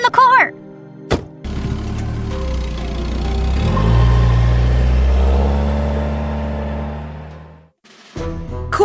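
A car engine starts with a thunk, revs up to a loud rising roar and settles into a steady drive-off drone for several seconds, with voices briefly before and after.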